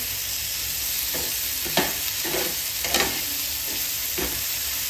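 Okra stirred and mixed with spices in a hot pan, with a constant sizzle and a series of repeated scraping stirs at an even, unhurried pace.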